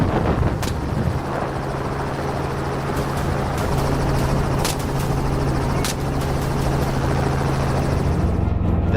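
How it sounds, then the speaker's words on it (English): A helicopter flies in low over a freshly harvested hillside farm field during a wild boar hunt, its rotor thudding loud and close in a steady, droning pulse throughout. "The helicopter veered in,"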